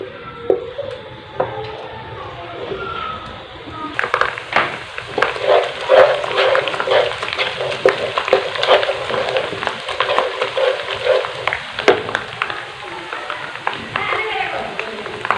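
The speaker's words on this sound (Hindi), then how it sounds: "प्याज को हम हल्का ब्राउन होने तक भून लेंगे।" Onions frying in oil in a pan until light brown for a potato and spinach curry, a steady close sizzle with faint stirring clicks, dense and continuous with no talk.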